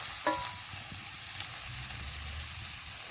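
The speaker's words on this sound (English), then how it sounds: "We got steak sizzle." Venison steak sizzles in a cast iron pan over a campfire, a close steady frying crackle with faint pops and stirring scrapes, no voices.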